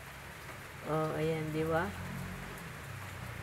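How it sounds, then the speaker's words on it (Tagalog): Heavy rain pours steadily in a dense, even hiss while a voice speaks briefly over it, outdoors where ducks are kept. "Lakas ng ulan kasi, guys."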